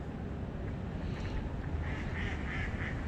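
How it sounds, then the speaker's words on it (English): A duck quacks out in the open near a trout-fishing spot on the water, a short run of calls heard under steady wind noise. "Come away, duck."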